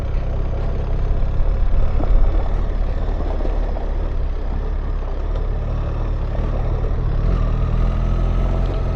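A BMW R1300GSA adventure motorcycle riding up the Corkscrew Gulch trail near Ouray, Colorado, a steady low engine drone with rumble and wind, constant and close throughout.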